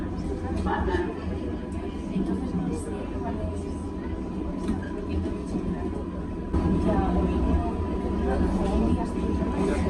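Madrid metro underground train running, a steady low rumble and rolling hum of the carriage with a faint tonal whine, continuous and close, with a slight rise in loudness partway through.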